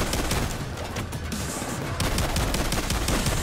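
Payday 2 gunfire blasts away in a dense, continuous stream of loud shots, with no speech over it.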